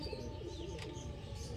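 A Giribaj pigeon coos softly in low, rolling murmurs, close by and fairly quiet, with faint chirps and background hum around it and no speech.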